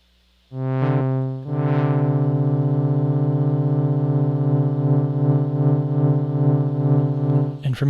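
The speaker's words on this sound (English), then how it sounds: "All right, so we should get a tremolo effect now." Moog Matriarch synthesizer with its built-in tremolo effect: a held, buzzy tone that pulses steadily in volume, loud and close, after two short bursts at the start and a brief click at the end.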